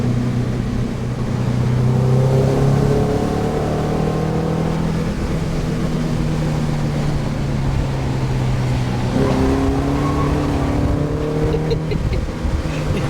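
A Honda Element's engine pulls hard out of a turn on a mountain road. A loud, close, sustained drone climbs in pitch through the gears, with a shift-like dip partway through.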